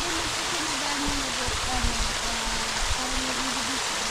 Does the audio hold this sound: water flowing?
yes